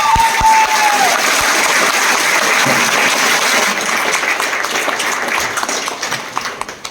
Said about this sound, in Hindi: जोरदार तालियां आप सबके लिए